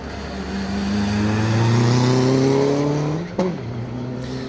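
A 2-litre Subaru Impreza rally car on a circuit rally stage revs hard, its engine note climbing through the gears close by, then a sharp change as it twitches, and the engine continues at lower pitch.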